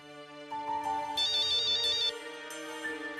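A phone ringtone plays as a bright electronic melody with a sustained tone and rapid trilling notes, clear and alone in a quiet room.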